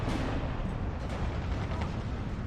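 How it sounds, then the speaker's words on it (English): Grille self-propelled artillery shell exploding in the World War II strategy game Steel Division 2, a deep rumbling blast with rolling low-end roar and faint secondary pops, fairly quiet and distant-sounding. "Big old explosion coming in there, that's from the Grille."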